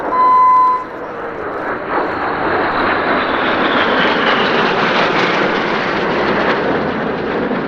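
Red Arrows jets fly in display formation at the Leeuwarden air show, a loud broad engine roar that rises into a sustained rushing whoosh as the aircraft pass overhead, with a brief tonal whine at the start.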